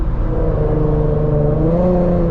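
A tuned Infiniti Q50 engine revs loud and close while cruising on a highway, a steady droning roar that climbs gently in pitch near the end with no voices over it.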